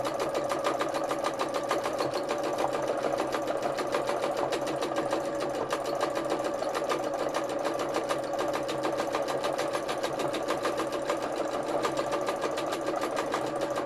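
A sewing machine stitching free-motion embroidery on fabric backed with felt, running in a fast, steady, even whirring rhythm close by throughout, with no pauses.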